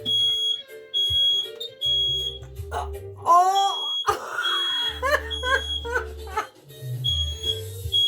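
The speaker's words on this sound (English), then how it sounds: "That would be the smoke detector." A smoke alarm beeps in a repeated high-pitched pattern, set off by a hot oven door while cooking beef stew and biscuits, as a person exclaims and kitchen clatter and voices sound nearby.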